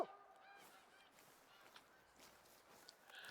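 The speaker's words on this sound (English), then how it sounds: "Bunch of geese. That's overhead" A flock of geese honks overhead in the hunting game theHunter: Call of the Wild, with faint scattered calls drifting over a quiet outdoor ambience and soft footsteps.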